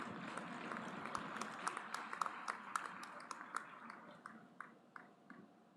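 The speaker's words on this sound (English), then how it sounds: "Huge round of applause for Executive Master students." Applause at an IIT Gandhinagar convocation ceremony for graduating Executive Master students: a moderate, fairly sparse clapping crowd, heard at some distance and tapering off toward the end.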